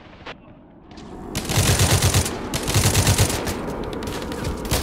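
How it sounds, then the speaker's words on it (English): Enemy machine gun fire in a multiplayer shooter, starting with a couple of isolated shots and then building into long loud rapid bursts that continue to the end. "Spawn right into enemy gunfire."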